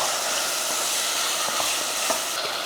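Golden onions, tomato, brinjal and dried fish are sautéed in a pan for a spicy Tamil kara kulambu, giving a loud, constant sizzle with soft scraping stirs breaking through now and then, close up and without talk.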